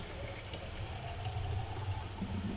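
Water is poured into a container at home, a faint, steady trickling stream against a soft background hiss.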